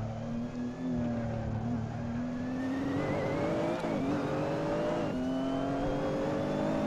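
A Nissan GTR GT3 race car engine revs hard at Monza in the Assetto Corsa racing game, a loud, continuous drone climbing in pitch through the gears with brief shift breaks.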